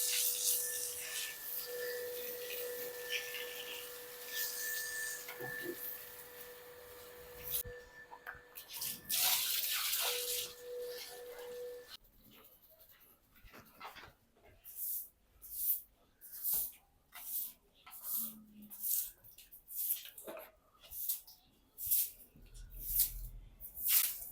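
Water sprays in a steady, hissing rush for about twelve seconds while washing vehicles, then gives way to a series of rhythmic splashing or scrubbing strokes.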